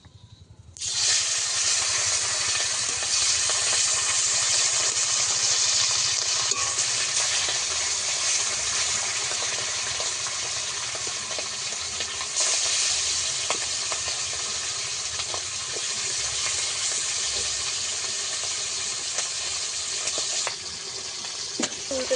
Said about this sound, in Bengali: কড়া গরম হয়ে গেছে, মাছ ভেজে নেব।